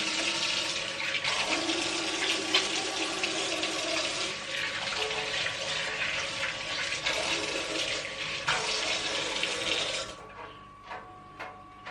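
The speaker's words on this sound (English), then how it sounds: "So I'm gonna wash my hands quickly." Running tap water pours steadily into a sink for about ten seconds as hands are washed, with shifting splashing as the hands move through the stream, then the flow stops and a few drips follow.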